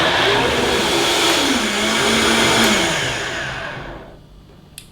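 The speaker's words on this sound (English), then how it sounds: "We're gonna start our Vitamix." A Vitamix blender roaring on high, a loud, dense whirring motor with a pitch that shifts as the contents churn, then winding down and fading toward silence in the last second.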